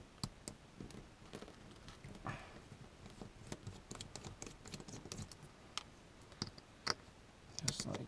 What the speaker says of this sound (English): you're just going to need a screwdriver and pull these two screws out.